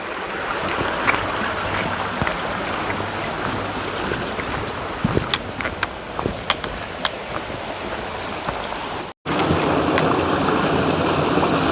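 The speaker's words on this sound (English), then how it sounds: "here's one of these other steel I-beam bridges going across this" A small stream flows beneath a steel I-beam bridge along the Appalachian Trail, a steady rushing water hiss with occasional wind buffeting the microphone and a brief cut near the end.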